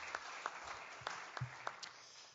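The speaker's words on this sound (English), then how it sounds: "Please give him a big round of applause." Applause at a forum session on middle powers in Jeju, faint scattered claps with a few sharper hits standing out above a steady hiss, sounding distant and thin.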